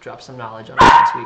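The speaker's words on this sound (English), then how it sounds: "She's downstairs barking up a storm." Someone talks briefly, then a single loud bark from a puppy downstairs cuts in near the end of the clip.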